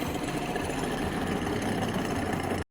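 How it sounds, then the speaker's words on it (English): A worn, noisy engine pulley running before its tensioner is replaced, giving a loud, close, continuous rattling whir with a steady rhythmic churn that cuts off abruptly. "Okay, so this is how noisy the pulley is. That's super loud."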